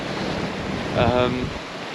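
Steady roar of wind noise and surf aboard a sailboat running before big waves in about 30 knots of wind in the English Channel, with a brief swell of louder rushing water midway and no talk.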